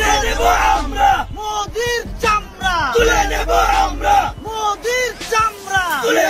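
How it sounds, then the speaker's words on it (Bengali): A crowd at a street protest in Bangladesh chants slogans in loud, rhythmic call-and-response, a leading voice answered by many shouting voices together, repeated in quick bursts. "এমনকি বাংলাদেশে স্লোগান উঠেছে"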